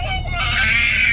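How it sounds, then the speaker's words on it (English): Children on a school bus scream loudly and continuously in high, piercing voices, a sustained shrill wail that fills the space close by, with no break in the noise. "There's no reason to scream."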